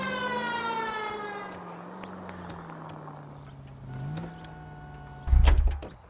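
A police car siren in the video game L.A. Noire wails with a steady, sweeping tone over engine hum, followed by a short loud burst near the end.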